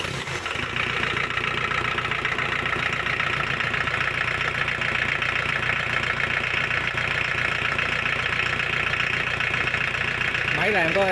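A Kubota V1505 diesel engine, rated 32 PS at 3600 rpm, idling close by with a steady low rumble and clatter, running continuously with no pauses and no talk over it.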